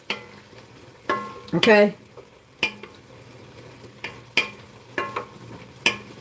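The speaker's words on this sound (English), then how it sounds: "we're just going to saute the garlic for a couple of minutes" Garlic sautéing in a soup pot, a soft sizzle under repeated sharp scrapes and clinks of a utensil stirring against the pot, with a brief spoken word.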